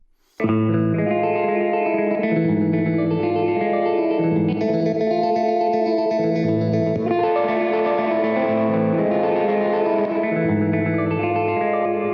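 A synthesized guitar riff plays a steady repeating pattern, washed in echoing delay and reverb, sustained and bright throughout.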